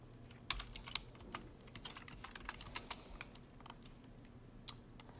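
Fingers type a name on a computer keyboard, a quick irregular patter of soft, close key clicks with a few louder taps, quiet and without speech.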